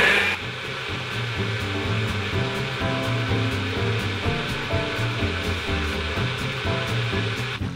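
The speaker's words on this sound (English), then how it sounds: "Now blend." A NutriBullet blender whirs at full speed through a coconut coquito drink, a loud steady motor roar with a churning liquid texture that holds for several seconds without talk.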